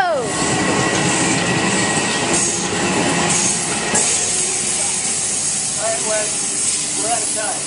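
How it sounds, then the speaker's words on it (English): Metro North Bombardier M7A train passing Tarrytown on the Hudson Line, a loud close rumble with hissing and squealing wheels throughout, and people talking over it. "One more Bombardier M7A for you all."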